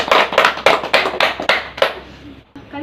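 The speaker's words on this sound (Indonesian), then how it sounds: "Sekali lagi kita beri tepuk tangan untuk semuanya." A classroom group claps together in a strong rhythmic run of about seven loud beats, then fades into quieter scattered claps.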